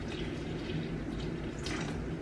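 Water poured into a tortoise's water bowl, a soft continuous trickling splash, fairly quiet and close, with no talk.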